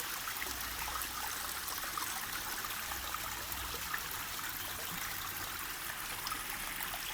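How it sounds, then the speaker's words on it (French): A small water cascade running into a garden pond, a soft continuous trickling and splashing flow, close and steady throughout with no speech. "Cascade."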